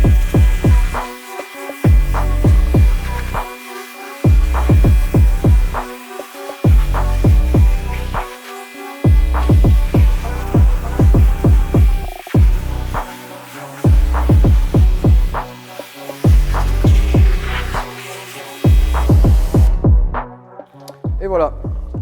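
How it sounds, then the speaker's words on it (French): A Karcher pressure washer rinses a car in loud, repeated spraying bursts roughly every two seconds, separated by short pauses. The pattern continues throughout and cuts off near the end. "on prend le Karcher et on vient rincer le véhicule"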